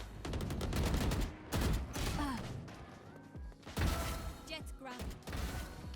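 Rapid gunfire from a Valorant deathmatch, with repeated bursts of sharp close shots, clicks and mechanical weapon sounds that pause briefly between flurries.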